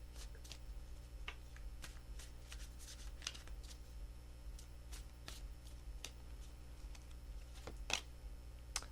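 Tarot cards riffled and shuffled close up in quick, crisp bursts against a low steady hum, with no talking.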